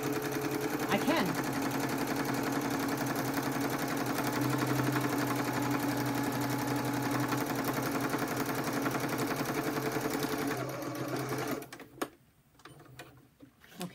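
A sewing machine stitches across the top of a folio in one long continuous run, a steady close mechanical hum and rapid needle chatter that stops near the end, followed by a few sharp handling clicks.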